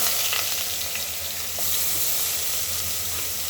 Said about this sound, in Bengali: তো পেঁয়াজ নাড়াচাড়া করছি। এখন মশলাগুলো দিয়ে দিলাম মশলা।